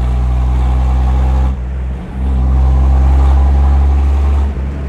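A 1934 Lagonda M45 T7 tourer's engine pulls hard under acceleration, a steady loud deep drone with a short dip in the middle before climbing again, heard close with no talking.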